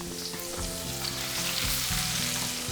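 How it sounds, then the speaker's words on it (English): Mushrooms and onion fry in a little oil in a pan, a strong close sizzle with soft stirring and scraping knocks under a faint tonal background. "And I'm gonna add these mushrooms."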